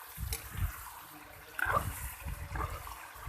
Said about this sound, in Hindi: थोड़ा सा पानी शामिल कर लेंगे।